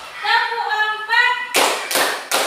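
Tepuk semangat clapping game in a fifth-grade classroom: several sharp, loud bursts of group hand clapping follow a stretch of children chanting in unison, the claps landing in quick counted beats.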